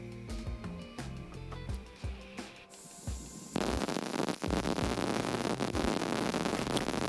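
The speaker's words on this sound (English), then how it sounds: "As you can see, with the gas on, it's welding much better." A mini MIG welder converted from flux core to shielding gas lays a weld, first with crackly tonal buzzing, then a loud, steady, dense sizzling hiss that holds close and continuous for the second half.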